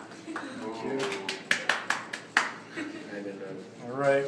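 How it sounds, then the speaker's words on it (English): A few scattered hand claps from a small group ring out as a guest is applauded in a home kitchen, sharp and close, with people talking over and around them. "Can we get a round of applause for Dan Shin, everyone?"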